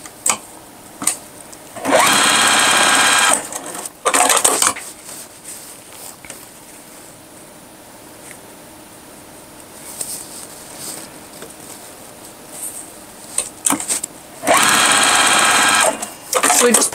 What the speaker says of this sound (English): we're just going to sew these together